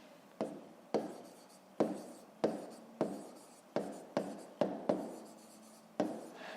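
A pen scratches across paper during a fifth-grade math exercise: close, quiet, rhythmic strokes of about one per second, each starting sharply and trailing off, with no voices.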